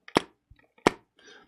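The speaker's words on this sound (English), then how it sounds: "I think this is just from dropping the lid." Two sharp hollow knocks about a beat apart as a music box lid is dropped and clatters shut, followed by a faint rattle, close and dry.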